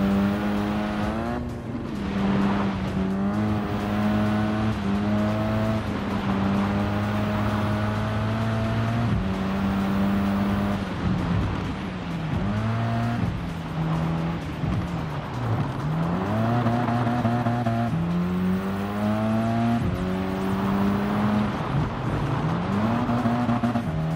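Car drifting through corners on dirt in Gran Turismo 7, a loud engine revving up and down in repeated sweeps as it shifts and slides, steady throughout with no talking.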